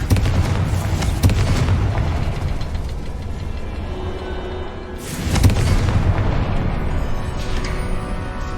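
A Confringo spell explodes in Hogwarts Legacy, a heavy booming blast about midway that swells above a constant dense rumble of game ambience, with no voices.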